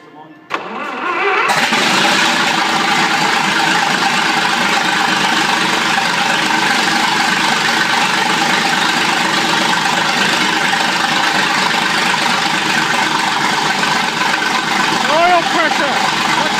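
A Winton 106A model petrol engine cranks and catches after repairs, then runs loud and steady at a constant idle close by for the whole stretch, with people speaking over it.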